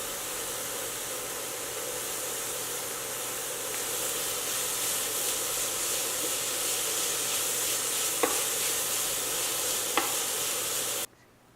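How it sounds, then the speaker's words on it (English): Chopped ingredients with chili pepper sautéing in a pan for a vegan tofu loaf, giving a constant close hiss and sizzle with a couple of faint clicks before it cuts off abruptly at the end. "So saute for just 2 or 3 minutes and keep it aside for now."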